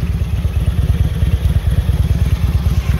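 A 2006 Harley-Davidson Electra Glide with a V-twin 88 engine idling up close, its loud, uneven lumpy potato-potato beat thumping steadily and evenly, with no talking over it.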